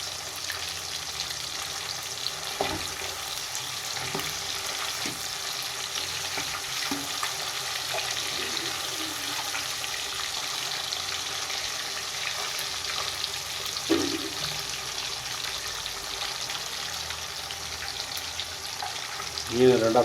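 Rock fish fries in oil with a constant, fairly soft bubbling hiss for about twenty seconds, a few dull knocks and clicks of a utensil scattered through, and a louder clatter at the very end.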